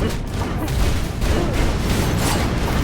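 Explosions and fire bombs in the video game Skul: The Hero Slayer go off as a loud, dense run of overlapping booms and crunchy blasts in rapid succession, close and continuous.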